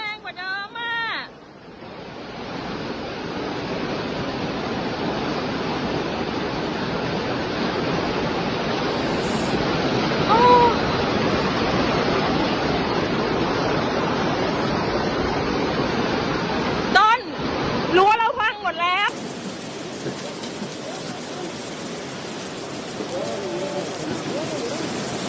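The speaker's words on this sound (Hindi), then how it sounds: "में हुई भारी बारिश के बाद सैलाब आ गया। कार पत्ते की तरह बहती नजर आई।" Loud, continuous roar of floodwater surging through streets after heavy rain in Tocopilla, Chile, a dense rushing wash that runs almost unbroken, with brief sharper bursts near the end.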